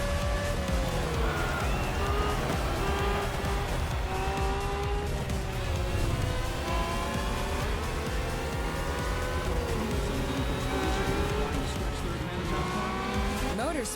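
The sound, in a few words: race car accelerating in the video game The Crew Motorfest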